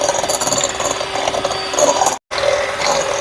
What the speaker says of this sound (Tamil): இப்போ இதை பீட் பண்ணி எடுப்போம்